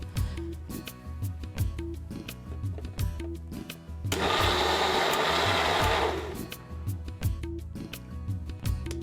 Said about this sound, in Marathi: पालक आपण पाणी घालून मस्तपैकी ग्राइंड करून घेतलेला आहे